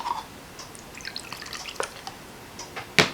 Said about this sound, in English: I'm going to pour it so I don't make such a mess